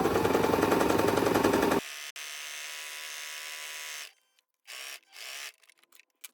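Sewing machine stitching a seam on stretchy shorts with a regular stitch and backstitching, a loud steady buzzing run that drops to a quieter hum, then short bursts as the stitching stops and starts.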